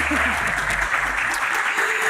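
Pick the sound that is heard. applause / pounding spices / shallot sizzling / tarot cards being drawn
applause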